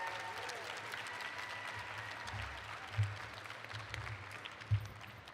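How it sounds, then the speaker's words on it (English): Audience applause at the opening ceremonies of a Rube Goldberg World Championship, a steady moderate patter of clapping with a few louder thumps and a low hum beneath. "I give you all a round of applause"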